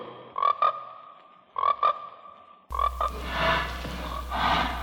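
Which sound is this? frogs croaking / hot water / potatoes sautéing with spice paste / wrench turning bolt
frogs croaking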